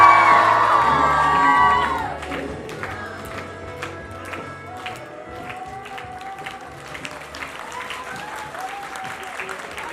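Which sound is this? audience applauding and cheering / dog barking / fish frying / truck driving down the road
audience applauding and cheering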